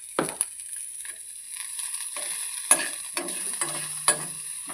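Greens stir-fried with coconut in an iron pan, sizzling steadily with repeated scraping stirs and clinks, close and fairly loud.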